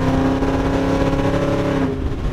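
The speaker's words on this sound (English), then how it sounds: "That sound never gets old." Carbureted V8 in a 1972 Chevy Nova revs loudly up close, a deep rumbling growl that holds briefly and then eases off, with no one speaking.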